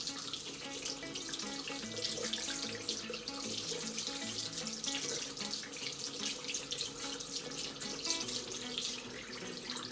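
A paint brush rinsed under a running tap, with steady splashing water pouring into a sink at close range for the whole stretch and no talking.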